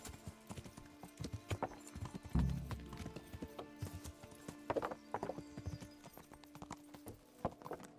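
Horses in the medieval game Kingdom Come: Deliverance clip-clop steadily on hard ground, with a loud whinny near the middle and more snorting neighs later, over faint background ambience.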